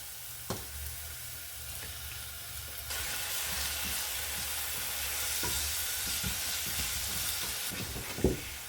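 Onions and garlic sauté in a pan for a black bean soup, a steady soft sizzle that brightens partway through, with occasional light clicks and scrapes of stirring and no voices.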